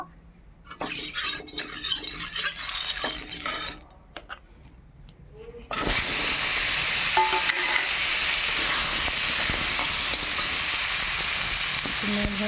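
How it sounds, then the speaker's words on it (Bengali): Potatoes fry in oil in a wok, starting with quieter clatter and stirring before a loud, steady sizzle takes over and holds close up to the end, with occasional scrapes of a utensil. "এবার কড়ার মধ্যে একটু তেল দিয়ে আলুগুলি ভেজে নেব"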